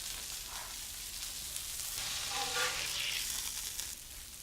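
A catfish fillet sizzles quietly on a hot griddle, a soft continuous frying hiss with faint crackles and pops across the few seconds, no voices over it.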